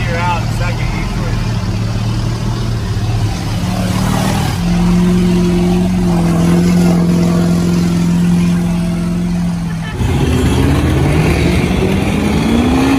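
A mud truck's engine revs loudly and close out at a mud hole, holding a steady high drone, then dropping and climbing again in pitch, with voices heard over the roar.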